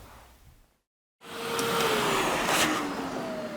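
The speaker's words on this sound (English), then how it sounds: "So I'll push most of this back in as best I can and then vacuum it off." A vacuum cleaner sucks up grit from a sandblasting cabinet with a loud, steady whooshing roar. It starts after a brief silence and runs continuously, with a few rattling surges of debris passing through.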